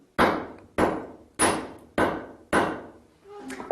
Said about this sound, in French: c'est avec ce vieux marteau-là que l'on va l'affiner